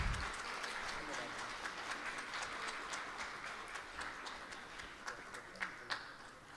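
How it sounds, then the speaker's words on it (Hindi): Audience applause at a world peace havan gathering in Toronto as a guest is welcomed: sustained clapping from a crowd, with a few louder individual claps toward the end. "जोरदार तालियों से"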